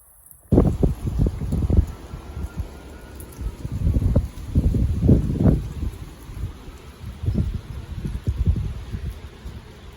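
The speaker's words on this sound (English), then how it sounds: "That's how windy and kind of chilly it is out here right now." Strong, gusty wind blows outdoors during a storm, roaring and buffeting the microphone in loud, uneven surges that rise and fall over several seconds, with no voices.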